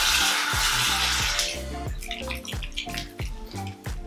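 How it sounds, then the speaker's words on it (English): Water runs briefly from a tap, then drips and splashes in a series of irregular close plinks while being added to a face cleanser. "I kind of want to add some more water and see what it does."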